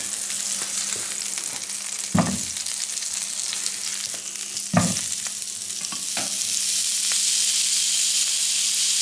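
Vegan quarter pounder patties fry in a pan after flipping, sending up a loud continuous sizzle and hiss. Two sharp knocks from the utensil break through, and no voices are heard.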